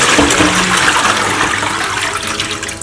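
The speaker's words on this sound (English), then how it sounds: "what I do is I pour this water off." Water is poured off a batch of washed green bananas for a Caribbean oxtail stew, a steady, loud close-up rush of splashing liquid that gradually eases.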